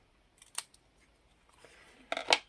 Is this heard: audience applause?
no